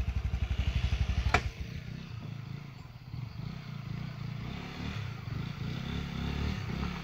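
A motorcycle labours along a badly broken road in Mizoram. Its engine chugs in rapid pulses, a sharp clatter cuts in, and then it settles into a steady low grinding rumble with faint scrapes.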